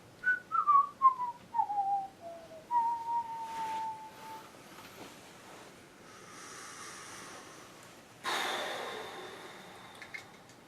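Someone whistles a short falling series of notes and one held tone, fairly close, followed by soft breathy noise and a loud rushing gust near the end.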